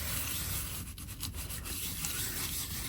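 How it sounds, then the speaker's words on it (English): A buffing cloth rubbing back and forth over a painted leather patch, a soft, steady scrubbing sound close by, continuous with slight rhythmic swells and no voices. "Now we're going to take a buffing cloth and we're going to buff it out."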